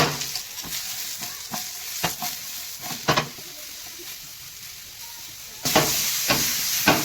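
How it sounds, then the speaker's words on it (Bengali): Mushrooms fry in a little oil in a pan for a Bengali butter mushroom dish, giving a steady close sizzle broken by repeated spatula scrapes and taps that grow louder and hissier near the end, with no talking. "এই মাশরুমগুলো একটু একটু ভেজে নেবো নেড়ে চেড়ে নেবো"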